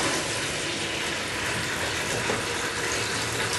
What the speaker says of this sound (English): what we need is an empty polythene bucket, preferably white, and we fill it with cold water